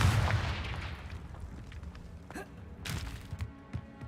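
A Confringo fire spell blast in Hogwarts Legacy: a sharp booming burst at the start that decays into rumbling, followed by a few fainter cracks and thuds, with a voice calling out briefly.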